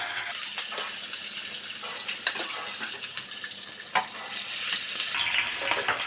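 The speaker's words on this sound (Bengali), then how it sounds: "সেই তেলটা আমি এখন ভেজে নেব।" Fish oil from bhetki fish fries in a pan over a gas flame, giving a steady, fairly faint hiss and crackle with occasional sharper pops.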